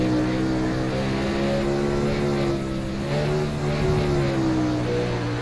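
Racing-car engine in the video game Dirt, a steady loud droning whine with shifting pitch as revs rise and fall, running continuously throughout with no talk over it.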